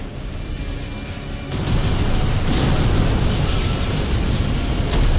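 A huge mothership blows up during a boss fight in Armored Core VI, a loud sustained roar of explosive rumble that swells after a quieter opening and keeps booming to the end.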